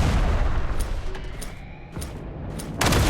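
Gunfire in the video game Duet Night Abyss, a dense, loud stretch of shots and booms that thins briefly mid-way and then surges back, with no speech over it.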